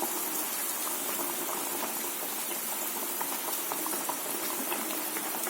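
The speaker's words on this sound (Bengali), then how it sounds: "ঝোলটা আবার টক করে ফুটছে" A tangy fish curry gravy for rohu in mustard-poppy sauce bubbles in a pan, giving a steady, dense hiss and crackle of boiling liquid close up, with no voices.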